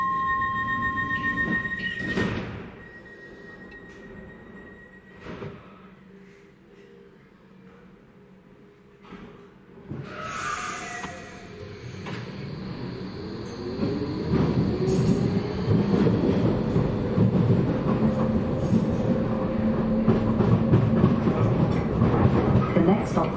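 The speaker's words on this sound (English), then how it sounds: "trains now ready to depart." A DLR light rail train in wrong-line running pulls away from a station: quiet with door chimes and brief thumps at first, then traction motors whine and wheels rumble, building steadily louder to the end.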